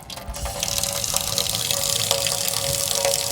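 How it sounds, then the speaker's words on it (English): Water runs steadily from a sink tap as hands are washed before blood glucose sampling, a continuous close splashing stream with no talk. "So we want to start off by washing our hands."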